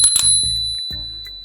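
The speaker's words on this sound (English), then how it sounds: "You have a bell on this side." The bell on a Techlife L5 electric kick scooter rings in two quick, loud, bright strikes close by, each leaving a ringing tone that decays slowly.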